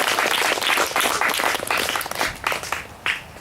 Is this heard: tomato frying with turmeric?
no